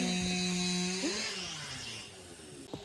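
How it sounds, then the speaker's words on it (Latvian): Firewood being sawn with a power saw by workers beside a horse paddock, a steady buzzing engine whine heard at a moderate distance, pitch shifting as the cut proceeds, with a brief knock near the end. "viņi tur zāģē malku un, blakām zirgu aplokam"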